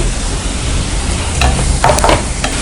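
Ginger garlic paste and green chillies sizzling and frying in a pan, a steady hiss with brief stirring scrapes near the end, close and loud.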